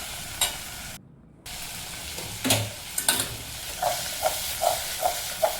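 A tomato vegetable dish frying in a pan and being stirred, with a steady sizzle and hiss and a series of soft rhythmic scraping strokes toward the end, up close.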